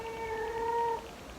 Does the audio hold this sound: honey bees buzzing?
no